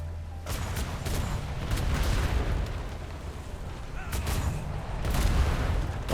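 Ship cannons firing a broadside in a naval roleplay video game, a string of heavy, booming shots spaced irregularly over a rumbling low background, loud and close.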